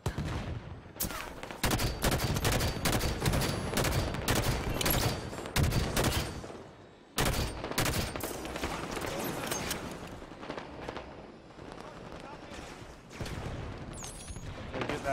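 Dense Halo 5 multiplayer gunfire in a big team battle, rapid automatic bursts and overlapping shots almost nonstop, loud with brief pauses between volleys.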